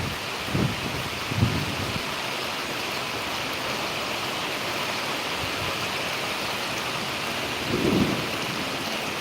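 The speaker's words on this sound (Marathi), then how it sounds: "ढगांचा गडगडाट तुम्हाला ऐकायला येत आहे" Steady, heavy rain in Buldhana district roars throughout, with a few low rumbles of thunder rolling in near the start and again toward the end.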